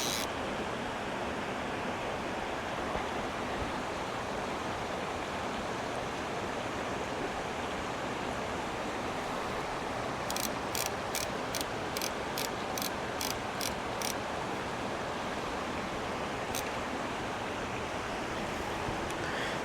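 A creek flows steadily in Colorado fly-fishing country, a constant broadband rush of water that stays close and even throughout, with a brief run of rapid clicking like a fishing reel in the middle and no voices.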